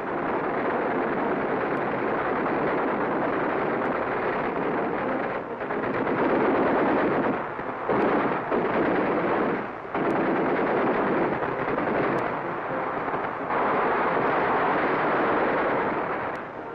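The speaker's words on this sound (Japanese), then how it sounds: "敵に対する敵外心に燃えて指揮者の射撃命令が下される度ごとに目標物を一発で命中させます" Rocket launcher fire in a 1973 North Korean military documentary about the WPRG bursts out in a steady, dense roar of repeated blasts with brief gaps, loud and continuous, without talk.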